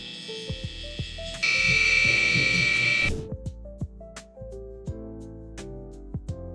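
An electric hair clipper with its lever closed buzzes steadily for about two seconds during a taper haircut, set against soft background music with plucked notes before and after.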